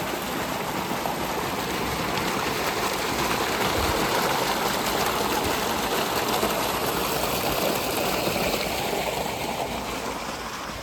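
Well water driven by a running motor pours into a small tank and flows on through an irrigation channel toward a field, a loud unbroken rushing wash close by, with no talking.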